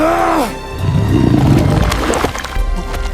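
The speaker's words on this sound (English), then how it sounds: "The roar shakes the ground" A prehistoric beast roars in a dramatised scene of primitive humans fighting over territory, a loud deep growling roar with rumbling low end, preceded by a brief falling tonal cry.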